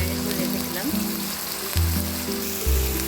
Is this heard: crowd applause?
no